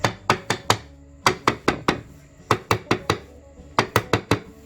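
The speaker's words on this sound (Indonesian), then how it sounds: "untuk telurnya ini kita retakkan kulitnya dengan cara digetok begini atau dipukul dengan menggunakan sendok juga boleh" A spoon taps boiled eggs to crack their shells for simple telur pindang, giving crisp, close knocks in quick bursts of three to four taps separated by short pauses.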